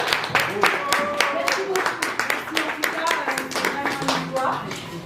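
Audience applause at a press conference at the Casino de Paris, a dense, steady patter of many hands clapping throughout, with voices and talk mixed in under it.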